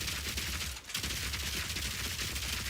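Rapid gunfire in Path of Exile 2 from a mercenary build, a dense crackling burst of shots with a brief gap near the start, then continuous rattling fire, close and loud.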